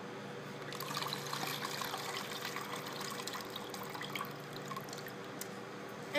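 Water trickles and drips steadily as rice is rinsed, a continuous close splashing with small droplet patters throughout, no voices.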